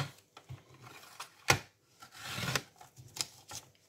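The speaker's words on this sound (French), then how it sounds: "Maintenant, je peux découper." A blade cutting an artist trading card, several short scraping and rasping strokes with brief pauses between them, close and fairly quiet, no talking.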